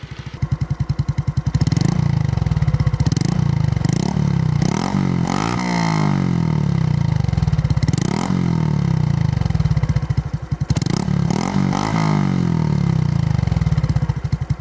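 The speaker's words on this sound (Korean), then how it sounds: "자, 배기 소리 한번 들어보겠습니다." A Honda Super Cub 110 motorcycle fitted with an Ixil aftermarket exhaust runs up close, its small single-cylinder engine idling with a putting beat and rising in several short revs before settling back.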